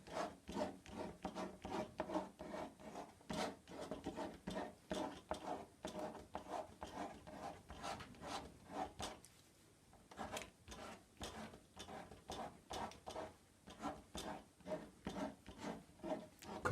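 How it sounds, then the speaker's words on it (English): An old credit card scrapes watercolour paint across paper in quick repeated strokes, a soft rhythmic rasping close and quiet, with a brief pause midway before the scraping resumes. "And now here's an old credit card. And all I'm doing is just scraping."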